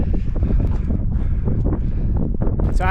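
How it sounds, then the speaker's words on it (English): Strong, cold wind buffeting the microphone on an exposed Peak District hilltop, a loud continuous rumbling roar with gusting surges throughout. "It is very cold up here and very windy."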